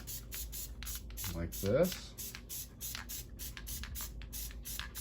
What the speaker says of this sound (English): I'm going to go ahead and hit this with some spray glue